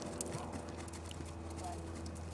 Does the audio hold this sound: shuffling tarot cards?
no